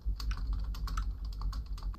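Keyboard clicks from the Floor 33 video game: a steady run of crisp taps over about two seconds, close and fairly loud, with a low hum beneath and no talk.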